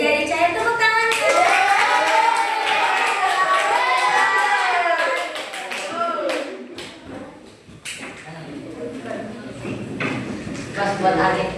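Children clap their hands in a classroom lesson, with irregular claps scattered through loud, overlapping young voices that sound sung or chanted at first and then turn to chatter.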